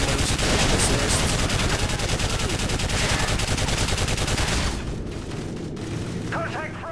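Dense, loud automatic gunfire fills a Call of Duty Modern Warfare 3 battle with rapid continuous bursts and booms, then drops off and leaves quieter background rumble and faint voices at the end.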